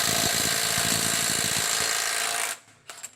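A Milwaukee M12 FUEL Gen 2 1/2-inch stubby impact wrench hammers in one loud, dense, continuous burst for about two and a half seconds, then stops abruptly, leaving a couple of faint clicks.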